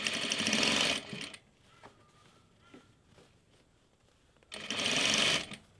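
A sewing machine stitches bias tape onto a vintage blouse in two close, steady whirring bursts separated by a few seconds of quiet handling.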